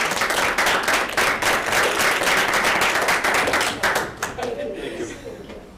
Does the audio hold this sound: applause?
yes